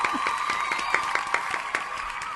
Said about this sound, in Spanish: Un aplauso. ¡Aplauso!